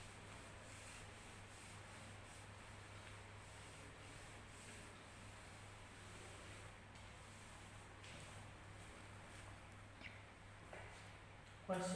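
A duster rubs steadily across a classroom board, a faint, continuous scrubbing sound with a low hum underneath and a small knock at the very end.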